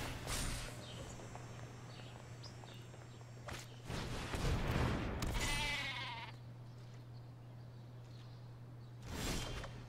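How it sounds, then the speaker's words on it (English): Sheep bleats from the Gatebreaker Ram card in the MTG Arena digital card game, several bleating calls in bursts over a faint steady hum, without talk. "Look at that tiny little Gatebreaker ram. It's so cute. Just this tiny little sheep."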